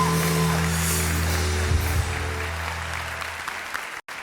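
A television studio audience applauds steadily with a dense, even clatter of clapping, a faint musical tone lingering early on, before it cuts off abruptly near the end.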